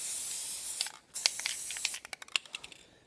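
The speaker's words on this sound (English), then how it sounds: "to solve my bass drum issue, I'm actually going to spray paint the pedals" Spray paint hisses steadily onto drum pedals as they are coated black. A brief pause is followed by shorter bursts of spray and quick, crisp clicking taps at close range.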